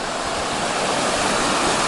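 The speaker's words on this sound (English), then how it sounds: "we are crossing over the McCloud River right now" The McCloud River rushes in a steady, broadband wash of flowing water, heard continuously from a crossing above it.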